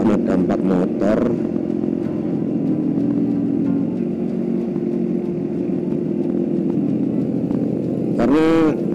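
Several motorcycles ride along a road at 5 pm in light drizzle, on the way to Bulu in Kediri. A steady engine drone runs throughout, with short bursts of voices at the start and near the end.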